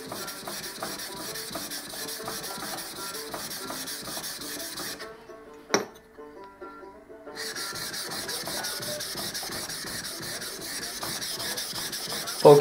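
A 70mm Japanese kanna plane blade's bevel being sharpened on a whetstone: continuous rhythmic rasping strokes of hard steel against stone, close and even, pausing briefly midway before the scraping resumes.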